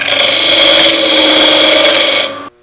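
A wood lathe spins a Banksia seed pod at about 1500 RPM while a tool cuts it, giving a loud continuous rasping whir that stops abruptly near the end.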